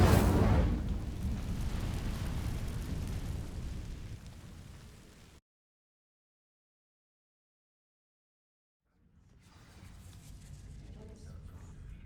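The Incendio fire spell igniting dry vines in Hogwarts Legacy bursts with a loud whooshing blast that fades over several seconds, followed by silence, then quieter ambience as a voice speaks.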